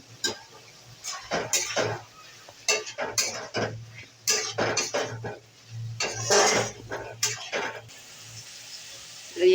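Vegetarian cabbage curry is stirred in a pan with a metal spoon, producing repeated close clanks and scrapes in irregular bursts over a faint steady hum.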